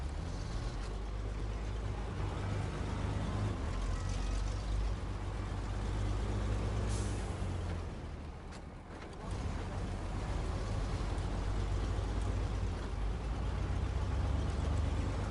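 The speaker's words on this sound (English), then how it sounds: "I love the way this truck sounds." A heavy engine rumbles steadily at low pitch, briefly easing off midway before resuming its deep continuous drone, near and unaccompanied by speech.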